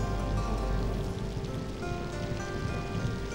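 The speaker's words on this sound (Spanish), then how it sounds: "En octubre llegan los monzones a Borneo. Entonces no para de llover" Heavy monsoon rain in a Borneo rainforest, a dense, steady hiss of drops pattering on leaves and surfaces, close and unbroken for the whole stretch.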